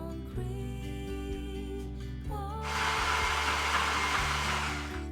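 A kitchen blender whirs as it finely chops fresh mint leaves for a cheese sauce with matsoni, a steady motor hum that surges into a louder, harsher whir about halfway through.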